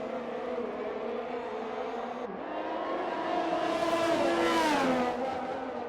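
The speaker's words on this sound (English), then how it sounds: "Jake with DRS on his teammate." Formula race cars in a racing video game at the Singapore Grand Prix whine past, engines climbing in pitch as one accelerates and sweeps by, loud and near, with no talk.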